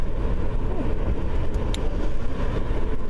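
Car interior while driving, a steady low engine and road rumble at constant loudness with no change in pace, heard from inside the cabin.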